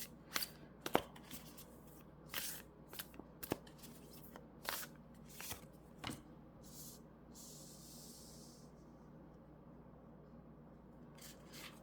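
Oracle cards are shuffled in a quiet room during a card reading, giving soft riffling and papery slaps in irregular bursts, close but faint, with no voices.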